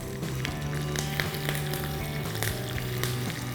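A pinch of asafoetida dropped into hot tempering oil with finely chopped green chillies and curry leaves, giving a low steady sizzle with small crackles, close and fairly quiet, no talking.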